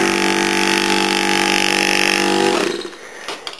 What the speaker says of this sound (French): la différence de bruit entre un frigo normal et le compresseur tout seul mais ouvert